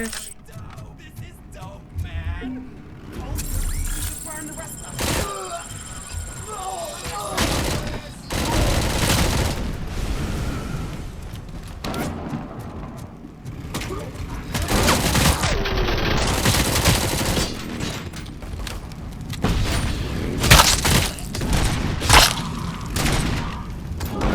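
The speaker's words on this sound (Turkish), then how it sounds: "Herkes birbirine sıkıyor" Gunfire and explosions in the video game RoboCop: Rogue City: dense, loud bursts of rapid shots and heavy booming impacts throughout, with a voice talking intermittently underneath the chaotic firefight.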